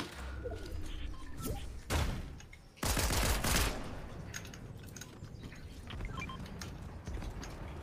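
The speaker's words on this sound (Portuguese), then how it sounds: "Você atirou em mim, foi isso mesmo?" Gunshots in the video game Fortnite: a few sharp, loud single shots and one heavier burst stand out over a steady background of game noise, fairly close and with no talk.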